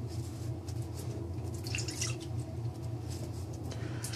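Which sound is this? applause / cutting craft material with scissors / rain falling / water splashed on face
water splashed on face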